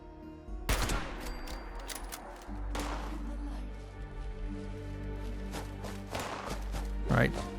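Gunfire aimed at the player in the post-apocalyptic game Fallout 76: several sharp, loud gunshot bursts spaced across a steady low in-game ambience, with one closer crack near the end.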